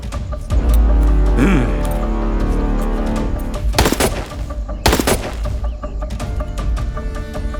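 Gunfire in a Hindi action movie scene: bursts of shots crack out around the middle and end, mixed with booming impacts and score, with brief voices beneath.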